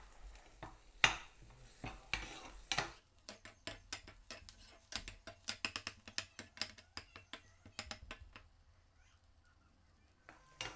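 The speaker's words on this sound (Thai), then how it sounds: "ผัดไปเรื่อยๆนะคะ ให้ส่วนผสมเข้ากันนะคะ และให้ไข่เริ่มมีความแห้งขึ้นนะคะ" Eggs stir-fried with red curry paste in a pan, heard as a run of quick, irregular scraping and tapping strokes of a utensil against the pan over a faint sizzle, close and moderately loud.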